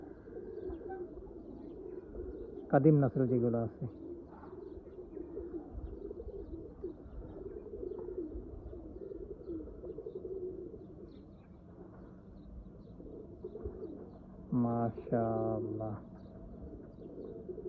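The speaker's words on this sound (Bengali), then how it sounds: "আলী শাহবানের কবুতর" Oman Teddy pigeons of the Ali Shahban strain coo in two short, bubbling bursts over a steady low murmur of birds, with someone talking in between.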